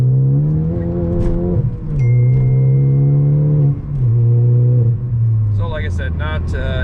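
A Ford Focus ST pulls away on an open road out of town, its engine droning steadily and stepping down in pitch at each of several gear changes, loud and close as if heard from inside the cabin.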